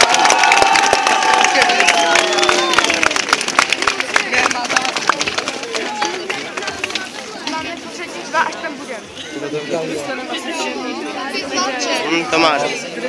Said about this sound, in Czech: teď budeme tleskat v základní škole Litomyšl Zámecká